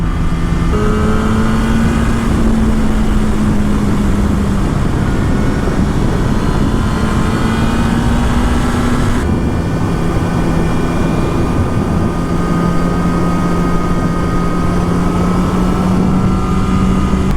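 Kawasaki ZX-10R motorcycle engine revving while riding, a loud continuous engine tone that rises and falls through gear changes over heavy wind rush, with no talking.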